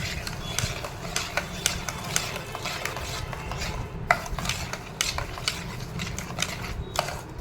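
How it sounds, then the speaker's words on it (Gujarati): A spoon stirs sugar into a farali yogurt raita, giving close, steady rhythmic scraping and light clicking against the bowl, quiet but continuous throughout. "ખાંડને આપણે હલાવીશું."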